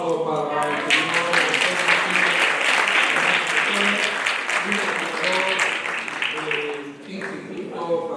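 Audience applause at an education event on parental empowerment in Peru, sustained and dense clapping filling the room for several seconds, with voices murmuring underneath and a speaker's voice emerging near the end.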